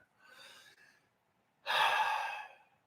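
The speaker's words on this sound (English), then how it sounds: "Did you hear me exhale?" A person exhales audibly, a soft breath followed by a louder, longer airy sigh close to the microphone, with no talking over it.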